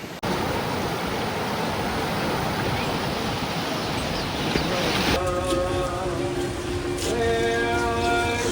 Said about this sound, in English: it's really windy, so I don't know if that's going to mess things up